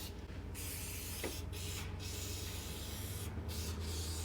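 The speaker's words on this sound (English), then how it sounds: "I didn't bring any other penetrant, so we'll just spray it on everything." Fogging oil hisses from an aerosol can in several short blasts onto a 70-year-old motorcycle, close by, over a low steady hum.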